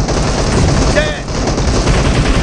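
Dense, continuous gunfire from the mobile battle royale game PUBG Mobile in a team deathmatch, loud and steady throughout with a brief tonal game effect in the middle and game announcer speech mixed in.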